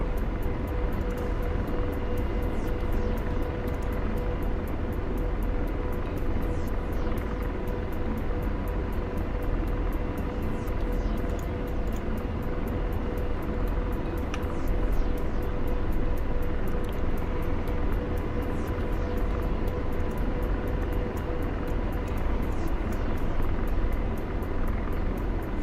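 An Apache helicopter in a video game spools up for takeoff, a steady, dense engine and rotor drone holding at constant loudness throughout with no voices.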